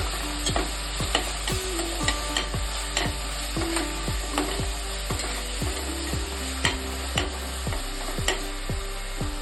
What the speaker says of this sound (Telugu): రెండు టీ స్పూన్ అల్లం వెల్లుల్లి పేస్ట్ పచ్చి వాసన పోయేదాకా ఫ్రై చేసుకోవాలి